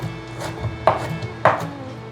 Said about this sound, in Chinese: 换一个方向，把香菇头切碎。